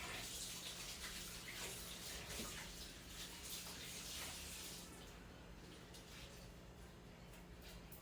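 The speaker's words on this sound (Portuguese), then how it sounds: "Deixa eu só enxaguar minha mão." Tap water runs over hands being rinsed at a kitchen counter during cake making, a steady close hiss with slight splashing that softens a little partway through.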